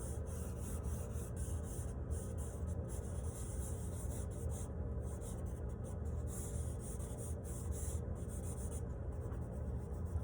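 Loose gesture lines drawn with vine charcoal on paper, a steady dry scratching and rubbing that continues without pause, close and quiet.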